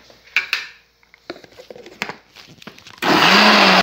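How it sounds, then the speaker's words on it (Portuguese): Blender in a home kitchen chopping onion with leftover rice for rice fritters, starting abruptly after scattered clinks and handling noises and running loud and steady through the last second, motor pitch dipping as it bites into the mixture. "Aí agora eu vou pegar o arroz e vou adicionando aos poucos, né? Porque senão fica muito pesado o liquidificador, né?"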